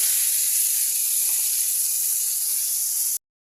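A ground paste of poppy seeds, cashews, melon seeds and spices hits hot oil for a navratan korma, letting out a loud, steady, bright hiss that cuts off abruptly near the end.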